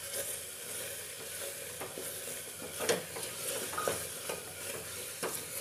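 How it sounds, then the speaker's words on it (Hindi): Tomatoes being mashed and cooked in a pan of masala made with very little oil for a Kashmiri-chilli black chickpea curry, with steady sizzling and repeated scraping stirs of a spoon against the pan, close and moderately loud, no talking. "अब टमाटर को भी इसी तरह से मसलते हुए पकाना है।"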